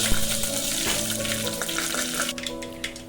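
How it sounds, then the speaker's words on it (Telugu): Mustard seeds, cumin and curry leaves crackle and sizzle in hot oil in a pan for a patala kura, a continuous close frying hiss with popping bursts and no voices. "ఆయిల్ వేడైన తర్వాత ఆవాలు జీలకర్ర కరివేపాకు"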